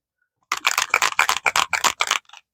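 A face mist spray bottle is pumped in a quick run of about eight short, hissing bursts close up in a quiet room, with no talking.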